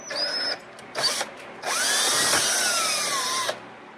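A power drill whines through a 1999 Yamaha Banshee carburetor body held firm, with two short bursts then a long steady run of high-pitched drilling with shifting tone, close and loud.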